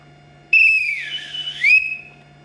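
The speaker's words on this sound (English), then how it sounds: "That's how I used to do whistles at the end of the game." A hockey umpire's whistle blows at the end of a game, one loud, close, shrill blast of about a second and a half that dips slightly in pitch and then rises again before stopping, over a faint background hum.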